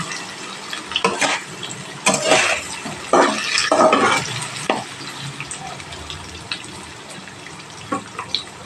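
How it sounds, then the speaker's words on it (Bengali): Vegetables fry in oil in a pan for a potato curry, with a soft background sizzle broken by several louder scraping stirs and bursts of crackle. "যে কোনো সবজি একটু তেলের উপরে ভেজে নিতে হবে"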